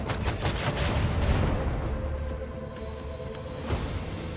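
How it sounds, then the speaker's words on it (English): Macro cannons firing a salvo in the Warhammer 40,000: Rogue Trader video game, a dense burst of booming, crackling shots up front that thins into rumbling echoes, with one more thump near the end. "Macro cannons, open fire!"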